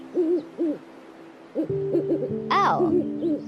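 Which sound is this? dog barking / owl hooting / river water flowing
owl hooting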